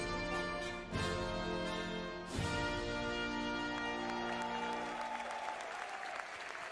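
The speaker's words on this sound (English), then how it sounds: "A huge round of applause for our top 3 finishers in the Toyota Gazoo Racing GT Cup for 2023" Applause greets the top three finishers of the 2023 Toyota Gazoo Racing GT Cup, a steady clapping wash sitting under loud, sustained musical tones with sharp hits.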